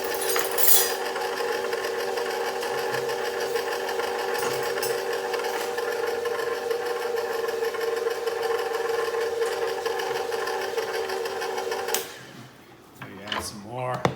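An electric mixer gives a soft first mix of batter with ingredients for a chicken nugget dinner, a steady motor whir running loud and continuous for about twelve seconds before cutting out.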